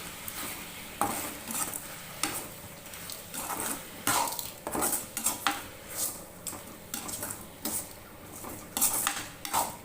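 Drumstick leaves being sautéed for a chutney, with a spoon repeatedly stirring and scraping a metal pan in brisk, uneven strokes and a light sizzle underneath, close and fairly quiet.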